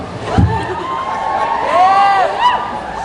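Comic Con audience cheering and whooping, a loose crowd roar with high shouted voices rising and falling over about three seconds, fairly loud and steady with a brief louder burst near the start.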